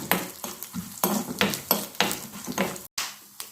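Peanuts and coriander seeds for a bottle gourd chutney stirred in a pan, making repeated scraping, rattling strokes about twice a second, close and fairly loud, with no talking.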